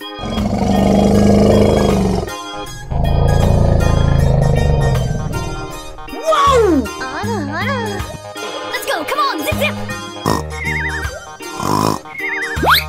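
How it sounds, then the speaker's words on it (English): Cartoon elephant sound effects in a playful animal transformation sequence: long loud roaring trumpet-like blasts, then wobbly bouncing tones and musical jingles. "Elephant."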